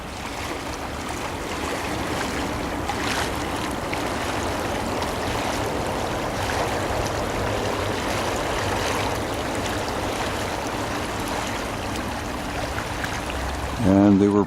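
West Nose Creek flowing upstream of the Stony Trail crossing, a steady rushing wash of water mixed with wind noise, continuous and fairly loud throughout with a brief knock at the end.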